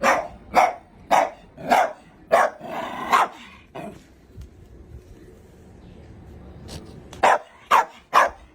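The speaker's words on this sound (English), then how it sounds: "This dog is the definition of all bark and no bite." A dog barks repeatedly in sharp, loud bursts, a quick run of barks, then a lull with low growling and background noise, then another rapid cluster of barks.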